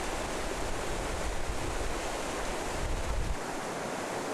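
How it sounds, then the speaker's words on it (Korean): Broadband rushing water of the Hantan River in Cheorwon, Gangwon, a steady continuous flow heard close and loud with no voices, easing slightly near the end. "말없이 흐르는 강물은 나라 잃은 궁예의 눈물일까"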